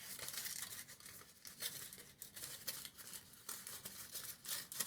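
Cadbury Caramel Egg foil wrapper crinkling and rustling up close as it is handled and smoothed out, a steady run of crisp, papery crackles with small bursts and no talking.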